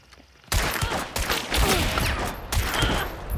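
Rapid gunfire erupts in the video game Hunt: Showdown, a loud close barrage of overlapping shots that starts after a short quiet moment and keeps going in bursts.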